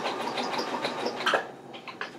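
A sewing machine runs at a steady, fast whir, stitching a curved crotch seam in fabric and easing slightly near the end, close and continuous, with no talking.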